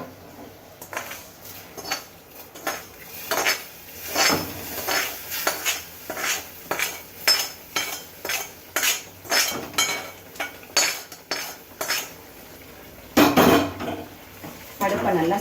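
Repeated metallic clanks and scrapes of a spoon against a pot as upma is moved into a pressure cooker, in quick irregular bursts, with a couple of louder knocks near the end.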